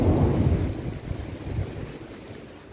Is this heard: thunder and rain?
yes